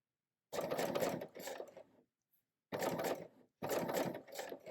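Bernina L890 serger sewing a blind hem stitch on fabric, fast mechanical whirring and clattering in three close bursts separated by brief silences.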